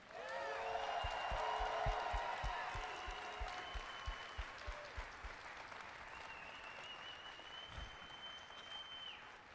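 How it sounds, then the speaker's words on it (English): An audience at BlizzCon applauds loudly during a live Heroes of the Storm match, a dense wash of clapping that peaks early, then slowly thins out, with some cheering at first. "Could you guys do me a favor and give a big round of applause for Kent Eric Hagman?"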